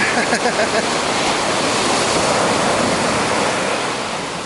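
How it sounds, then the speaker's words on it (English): Ocean surf crashing onto a beach, a loud continuous roar of breaking waves with wind buffeting the microphone, heard close and steady throughout. "Watch out the waves don't crash up on you there, Cody."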